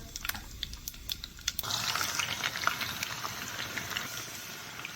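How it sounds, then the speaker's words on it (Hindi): Potatoes frying in ghee with cumin powder and spices for aloo palak, a steady close sizzle after a few brief clicks at the start. "ये हमारे आलू अभी फ्राई हो चुके हैं"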